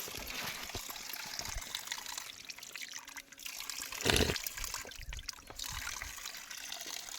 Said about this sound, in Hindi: एक नौला यहाँ पर भी है, यहाँ पर तो काफ़ी पानी दिख रहा है मुझे।